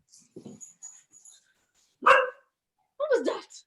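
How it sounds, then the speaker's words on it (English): A dog gives a few short, sharp barks with small yips between them, separated by silence, close by and fairly loud. "What are you barking at?"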